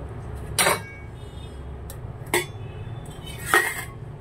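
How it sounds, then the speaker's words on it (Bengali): A metal lid comes off a cooking pot of steamed hilsa in mustard-poppy paste, three separate clanks and clinks standing out from a quiet background hum. "এবারে দেখো ঢাকাটা খুলবো"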